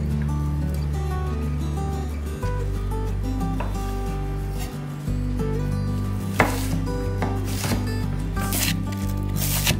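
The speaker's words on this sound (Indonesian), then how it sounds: "pertama kita bakalan potong-potong dulu bumbu yang bakalan dihalusin biar gampang buat ngeblendernya" A knife chops spices for sambal terasi on a board, a few scattered crisp cuts that are fairly faint beneath steady, loud background music.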